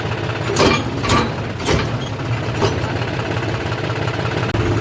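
A tractor engine idles with a steady rumble at a crowded market, with a few brief louder bursts near the start, no voices.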